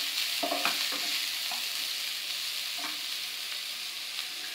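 Onions frying gently in a pan over low heat for Gobi Manchurian give a steady, even sizzle that fills the clip, with a few soft stirring scrapes near the start and no voices.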